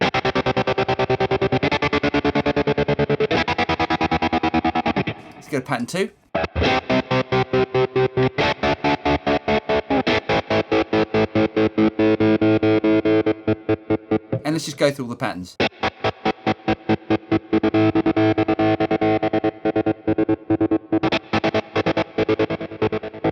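Distorted guitar chords from a Boss Katana amp's slicer effect, chopped into rapid rhythmic stutters, the pattern shifting after brief pauses, with someone speaking briefly between sections.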